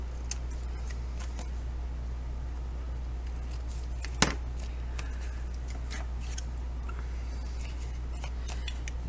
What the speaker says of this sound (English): Then I'll just trim it off.